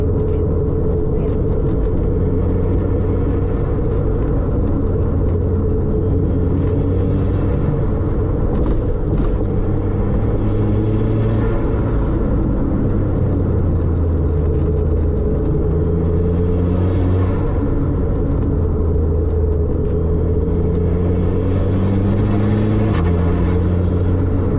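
A 350whp Volkswagen MK5 GTI drives a canyon road, its engine a loud continuous drone whose pitch climbs and falls through gear changes, with a voice faintly present at times.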